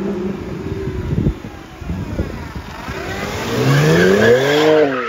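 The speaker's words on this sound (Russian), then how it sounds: "Жесткий дрифт" A turbocharged BMW drifting hard, its engine revving and climbing in pitch as the car slides, loud and close with tire and exhaust noise building toward the end.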